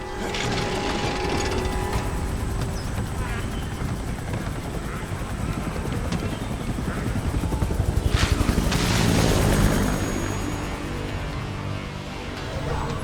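A helicopter in the video game Resident Evil Requiem takes off, its rotor chopping loudly and continuously in a dense mechanical roar that swells near the end, with a voice briefly heard under it.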